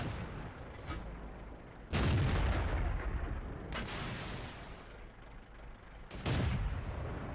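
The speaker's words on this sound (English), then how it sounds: "Let the KV-1S fire." KV-1S tank cannon firing in the World of Tanks video game: three heavy booming shots spaced a couple of seconds apart, each with a rumbling tail, over a continuous engine-like background.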